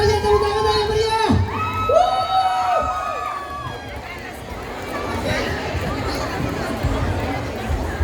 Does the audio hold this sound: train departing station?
no